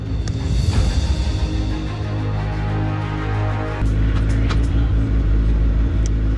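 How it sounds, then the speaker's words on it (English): Radical SR1 race car pulling away on a track in first gear, a loud continuous engine roar that rises, dips briefly and surges again, heard from close by with no speech. "Going out on track in the Radical SR1 for the first time."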